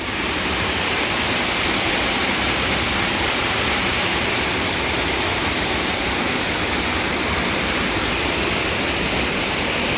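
Steady rushing splash of a water fountain near a restaurant, continuous broadband hiss that stays loud and even from start to finish with no pauses.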